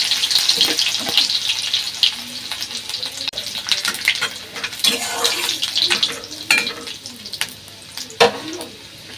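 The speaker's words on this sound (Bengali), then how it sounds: "এই যে রসুন কুচিগুলো দিয়ে দেবো এর মধ্যে" Chopped garlic frying in a pan for palak paneer, a steady loud sizzle with scraping stir strokes breaking through now and then, close by and without talk.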